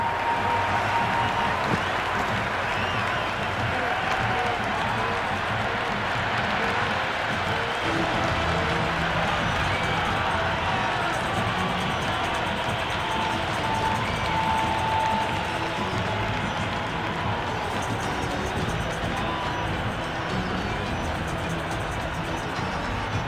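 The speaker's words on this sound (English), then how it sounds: "It's the most enthusiastic crowd you could ever see right now. There's a buzz, a real buzz coming from the stands." Dense, steady crowd roar with cheering and applause fills a packed stadium during a Cricket 26 video game IPL match between Mumbai Indians and Kolkata Knight Riders, holding at a constant loud level throughout with no pauses.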